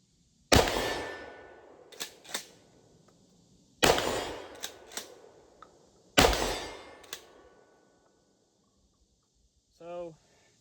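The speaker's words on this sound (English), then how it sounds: "last 4 shells. Let's just splatter that steel target down there" A GForce GF3P 12-gauge shotgun fires three loud, sharp blasts at a steel target, each with a quick metallic ring and fading echo, separated by a few seconds of quiet.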